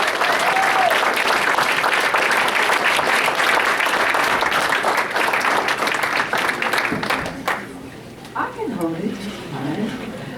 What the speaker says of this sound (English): give her a big round of applause for our speaker this evening, Kathy Pondexter, WNBA star.